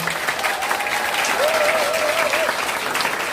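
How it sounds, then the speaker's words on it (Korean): Town hall crowd in Jeju clapping in thanks to party leader Lee Jae-myung, a loud, continuous burst of applause with a faint whistle-like tone drifting over it. "이재명 당대표님께 다시 한번 감사의 박수 부탁드리겠습니다"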